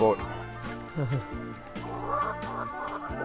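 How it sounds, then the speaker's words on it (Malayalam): Several BV380 chickens cluck and chatter nearby on a farm in overlapping bursts, a busy flock sound with someone talking over it. "കോഴികളെ നമ്മൾ ഇവിടെ വളർത്തുന്നത് അപ്പോൾ ബി വി ത്രീ എയ്റ്റി ആണ് മെയിനായിട്ട് കോഴികൾ"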